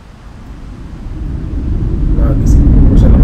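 Strong snowstorm wind buffets outdoors, a deep roaring rumble that steadily builds in loudness, with a faint voice briefly audible.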